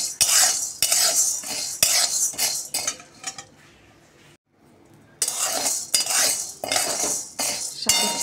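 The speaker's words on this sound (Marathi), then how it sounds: "याला पण आपण छान असा रंग बदलेपर्यंत भाजून घेणार आहे।" Grains and sago pearls dry-roasting in a pan for chakli flour, with a spoon scraping and clinking against the metal in busy repeated strokes, a brief quiet stretch midway, then the stirring resumes loudly.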